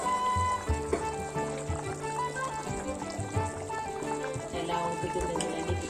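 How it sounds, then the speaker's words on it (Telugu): Chicken curry bubbling in an uncovered pot on a stove at full heat, a steady close simmering and gurgling with faint kitchen hum and no talk. "ఎలా ఉడుకుతుంది చూడండి"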